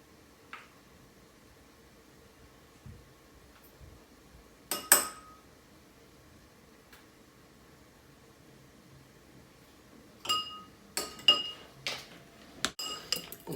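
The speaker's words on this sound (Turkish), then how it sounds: "şimdi şöyle bir karıştırıyoruz." Barbecue sauce is stirred into hot water in a quiet kitchen: a spoon clinks against the container in a single early tap, then a cluster of sharp clinks and rattles near the end over a faint background hum.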